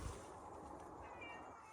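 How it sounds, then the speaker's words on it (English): A pet cat meows outdoors near a garden, a faint drawn-out tonal call over steady background noise, alone with no talking. "Oh, my cat."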